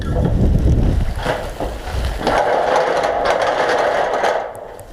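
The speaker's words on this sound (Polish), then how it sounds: "dzisiaj chyba tego nie dam rady zrobić, bo za bardzo wieje" Strong gusty wind buffets the microphone outdoors at a house building site, a loud continuous roar that surges and eases, with no talking.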